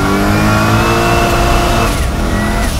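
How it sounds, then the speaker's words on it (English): A custom twin-turbo Chevevelle SS making 800 horsepower accelerates hard on 22-inch wheels, its engine roaring loud and close with a steady rising drone, heard from inside the car. "Man, this thing scoots."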